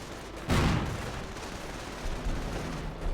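Artillery explosions in Company of Heroes: a sharp, loud blast near the half-second mark rolls into a sustained rumble of distant battle fire that continues under a dense, noisy wash.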